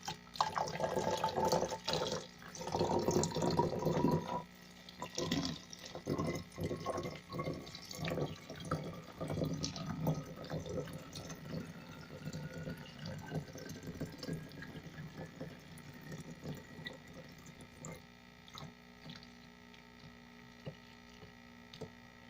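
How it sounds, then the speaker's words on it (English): Tap water runs into a bottle being filled for a homemade lighted bubble lamp, a steady close splashing and gurgling that is loudest early on, then settles into a softer trickle and drips over a faint hum. "And then I'm going to fill that up with water."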